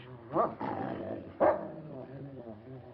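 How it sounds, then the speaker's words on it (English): A dog gives two gruff, low barks about a second apart, set in an old film scene indoors, with a voice talking around them. "Your dog seems to have taken a dislike to me, sir."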